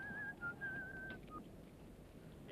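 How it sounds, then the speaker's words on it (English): A person whistles a short, thin, wavering tune that breaks off after about a second, followed by quiet background hiss. "Stop that whistling."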